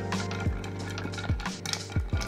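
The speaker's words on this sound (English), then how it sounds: "Add ice and stir." A spoon stirs ice in a mixing glass for a Toronto cocktail made with Fernet, giving a steady run of close, bright clinks and rattles with short louder knocks against the glass, and no talking.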